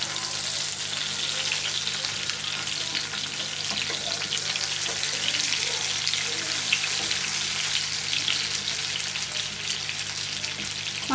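Chicken pieces frying in a pan after being flipped, giving a steady, dense sizzle throughout with no pauses, close and fairly loud.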